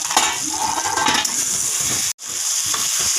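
Fish heads for a curry fry and get stirred in a pan, a steady close sizzle with scraping stirs, broken by one brief silent gap before the frying resumes.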